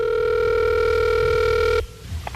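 A telephone ring tone sounds steadily for almost two seconds during a radio morning show prank call, then cuts off abruptly into a low line hiss.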